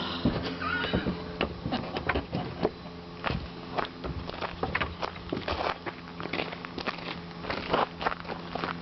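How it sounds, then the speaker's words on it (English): Horses out in the hot California desert near Los Angeles neigh and walk, with hoof clops and shuffling steps mixed with crackling ground noise throughout, fairly close and steady. "I don't know if those are like personal horses or if they're rent horses."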